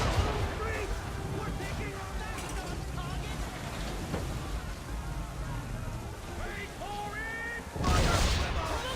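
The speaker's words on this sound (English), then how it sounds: "Fire broadside!" Ship cannons boom in a broadside volley in a naval video game, a dense rumbling barrage of overlapping blasts with a heavier burst near the end.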